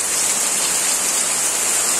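Heavy monsoon downpour in a cloudburst, a dense steady hiss of rain pouring down without letup, loud and close with no voices over it.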